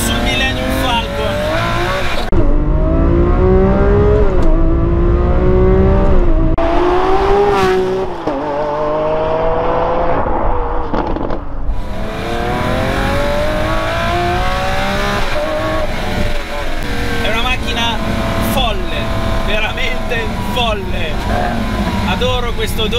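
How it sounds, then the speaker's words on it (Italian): Lamborghini Aventador Ultimae V12 revving hard toward 7000 rpm, a loud, rising high-pitched howl with gear-change dips and renewed climbs, heard close from inside the car with someone talking over it. "7000 giri senti che stai sfruttando il pieno potenziale di questo 12 cilindri"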